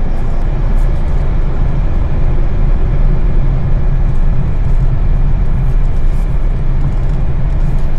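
Inside a Suzuki Dzire Hybrid on the move, a steady, even drone of engine and road noise fills the cabin with no one talking.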